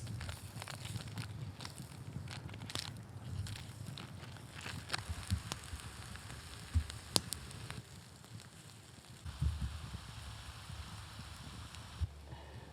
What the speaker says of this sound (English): And that will start hearing the sizzle a bit.